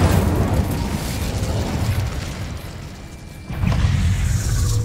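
In a video game, an Incendio fire spell blasts with a loud roaring burst that fills the opening seconds, dips briefly, then flares up again in a second heavy whoosh of flame.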